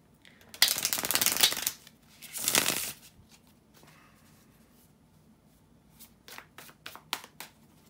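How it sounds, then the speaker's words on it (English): Tarot cards being shuffled in two brisk bursts, followed by a few soft taps and snaps of cards being handled, close up. "shuffle the tarot cards"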